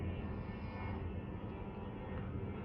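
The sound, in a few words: airplane flying overhead, heard through open windows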